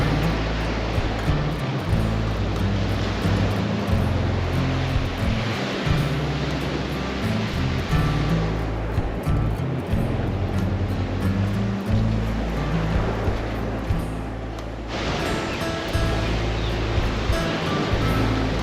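Ocean surf rolls and breaks along Scarness Beach at Hervey Bay, a loud, continuous wash of waves with rumbling swells that rise and fall throughout, heard alone.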